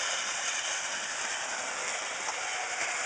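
Train passing as a cat watches, a continuous loud hissing rumble of the rolling train with faint rhythmic wheel clatter underneath, steady throughout and no voices.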